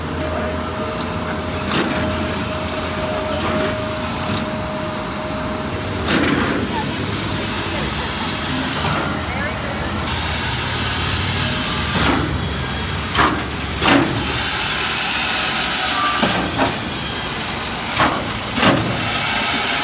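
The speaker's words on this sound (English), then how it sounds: "Looks like that might be a steam vent or something. That big wide thing, yeah. I hear it hissing." A steam vent near a railway gives a broad, continuous hiss throughout, rising louder about halfway, with occasional clanks and bumps and a brief tone early on.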